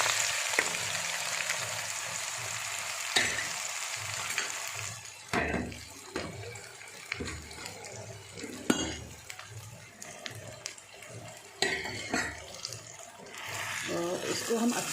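Asafoetida tempering sizzles in hot mustard oil as ground bhatt is added and stirred. The frying hiss stays steady throughout, broken by utensil clinks and scrapes, and a voice speaks intermittently over it.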